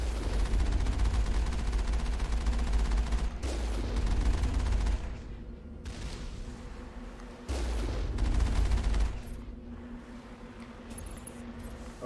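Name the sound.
enemy rockets firing in the Mass Effect video game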